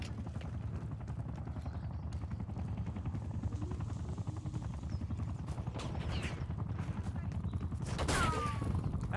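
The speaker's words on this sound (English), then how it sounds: "Enemy watchdog helo inbound." Watchdog helicopter in Call of Duty: Black Ops 6 closing in: a steady, loud rotor rumble runs throughout, mixed with bursts of gunfire and a louder swell near the end.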